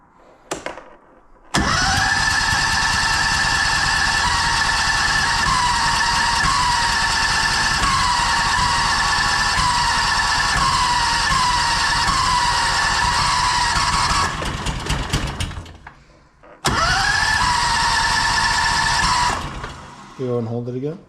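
A small 670cc Predator engine swapped into an E-Z-GO TXT golf cart cranks and fires, runs loud and steady at close range, cuts out, then starts again and roars on.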